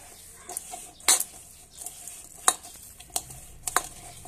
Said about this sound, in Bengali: আমি এটাকে একদম মাখিয়ে নিচ্ছি ভালো করে।